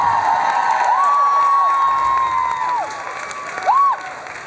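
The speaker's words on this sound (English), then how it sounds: "So, big round of applause." Audience at a bar concert in Hamburg cheers and claps steadily after a cover, a loud, continuous crowd wash with sustained whistles and a brief surge of shouting near the end.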